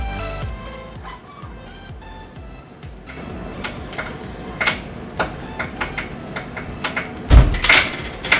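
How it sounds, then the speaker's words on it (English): A closet door rattles and scrapes open with a series of sharp clacks and knocks, ending in a loud thump, close by with no talking. "we're gonna open up the closet door"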